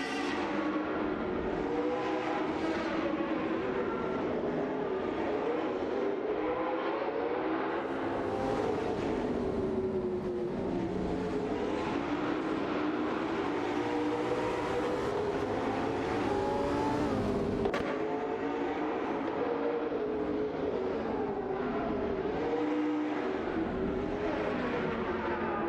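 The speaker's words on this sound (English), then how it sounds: "Automobile, dashing away." Race cars in an AI racing video game, engines droning and rising and falling in pitch as they speed along, a continuous layered roar with no talk.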